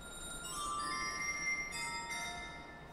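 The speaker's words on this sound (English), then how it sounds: "Well, there's the glockenspiel." Glockenspiel of a 1928 Wurlitzer Fox Special theatre organ at the Fox Theatre in St. Louis, a few bright metallic bar notes ringing out and sustaining softly in a large hall, with no talking.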